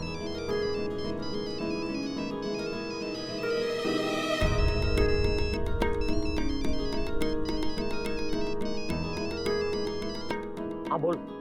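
A melodic phone ringtone plays continuously with a bright, repeating tune over a thumping beat, loud and close, with a voice briefly heard, in a Hindi TV comedy-drama scene.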